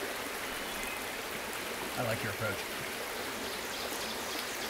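A river flows beside a campsite, a steady broadband rush of moving water heard close. A brief spoken remark rises over it midway.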